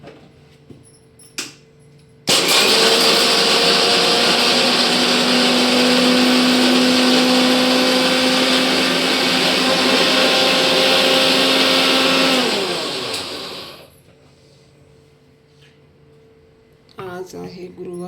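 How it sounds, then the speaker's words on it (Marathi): Peanuts spin in a mixer grinder, a loud, steady motor roar with grinding rattle that starts abruptly, holds for about ten seconds, then winds down and stops, with quieter room sounds before and after. "याच्यात मी शेंगदाणे घेतलेले आहे. ते आपण मिक्सरला फिरवून घेणार आहोत."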